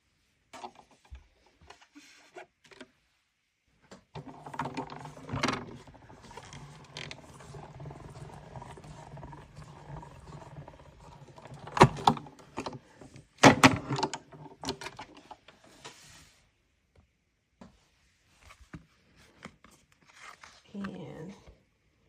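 Card stock in an embossing folder is cranked through an embossing machine, making a close, intermittent creaking and grinding with scattered clicks, while a voice speaks now and then.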